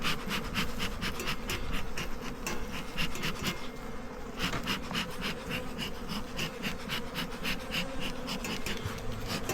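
Honeybees humming around an open double hive box in a backyard apiary, a close, steady, dense buzz with pulsing wingbeat rhythm throughout, no speech.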